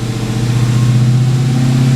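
A 2018 widebody Dodge Challenger Hellcat, rebuilt after a wreck, holds a steady 2000 RPM in neutral with the brakes applied, a loud, even engine drone with a deep low hum that barely wavers throughout.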